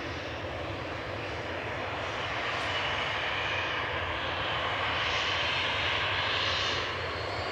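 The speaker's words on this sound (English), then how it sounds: "EasyJet landing from Paris Orly there, A320 GUZLX. Neo livery." EasyJet Airbus A320neo landing at Manchester Airport from Paris Orly, a loud continuous jet engine roar heard from the ground, steady and sustained throughout with a broad rushing hiss.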